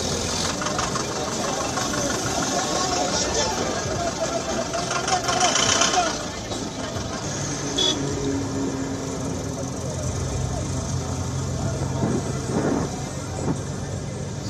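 Large convoy of tractors at a farmers' protest in Punjab and Haryana, producing a rough, knocking engine rumble that stays steady throughout, with voices and crowd noise mixed in over it.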